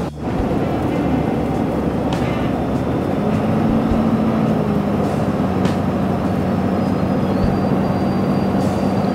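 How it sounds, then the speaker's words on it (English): A train rumbles past in the dark near the Holland Hotel in the mountains, a steady low roar that stays loud and unbroken from start to finish, with a faint whine rising partway through and no voices. "you can hear the train"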